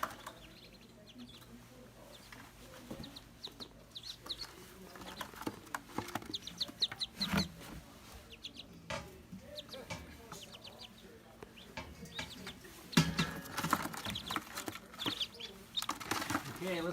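Newly hatched ducklings at their first swim give scattered thin peeps and soft flutters, faint and close, with quiet human voices and handling noises mixed in.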